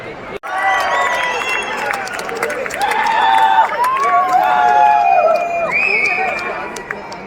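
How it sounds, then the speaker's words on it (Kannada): An RCB cricket crowd at Chinnaswamy Stadium in Bengaluru roars steadily, with shrill whistles rising above the dense, loud, sustained cheering throughout. "Karnataka arena ಮ್ಯಾಚಲ್ಲೂ RCB crowd."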